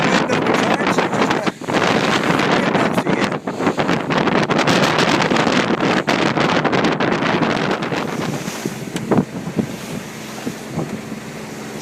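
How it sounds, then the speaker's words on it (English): Strong wind of about 20 knots roars across a Yarmouth 22 sailboat at sea, loud steady buffeting on the microphone with rushing water beneath, easing slightly toward the end. "Wind's blowing about 20 knots, so we should have a good trip."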